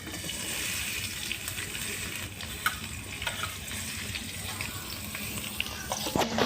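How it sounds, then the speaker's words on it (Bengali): Chopped onion and chili fry in hot oil in a wok, giving a steady, close, dense sizzle throughout with a few faint clicks near the end. "সবকিছু এখন আমরা লাল করে বাদামি রঙের করে ভেজে নেব"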